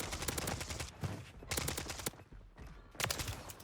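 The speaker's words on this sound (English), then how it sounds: "I'm getting shot from top." Rapid automatic gunfire in the Warzone 3 video game, repeated bursts of shots rattling off in quick clusters with brief pauses between them, fairly quiet overall.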